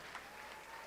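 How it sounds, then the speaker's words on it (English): Steady applause from a live audience for a veteran calypsonian of 52 years at a kaiso show, a continuous dense clatter of clapping without any voices. "Give the man a special round of applause."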